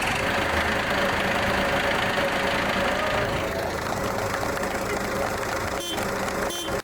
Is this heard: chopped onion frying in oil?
no